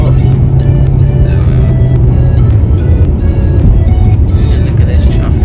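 Steady, loud road traffic noise from a long line of trucks on a highway during a winter road trip, a continuous engine and tyre rumble heard from close by with no break.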